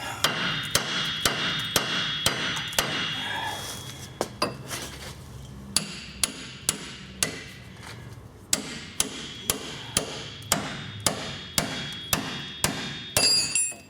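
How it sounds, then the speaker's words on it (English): Hammer blows strike a pickle fork wedged in the steering knuckle casting of a Dodge Dakota, a long series of loud, sharp metallic whacks in a steady rhythm, close up, with no talking. "just gonna give the casting a few whacks to loosen her up"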